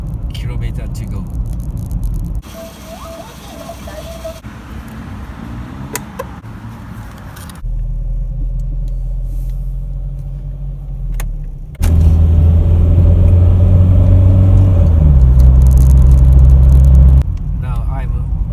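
A Peugeot 306 XSi hatchback drives on a road at night across the bridge over Lake Hamanako, its engine humming steadily and the drone deepening and growing louder partway through, with road noise and brief mechanical sounds in between.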